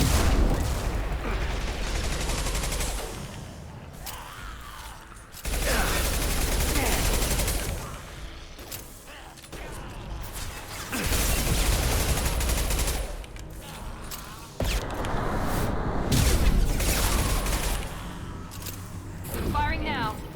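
Repeated bursts of heavy gunfire in the video game Mass Effect 2, loud stretches of rapid shots broken by brief pauses, with voices and combat effects mixed in.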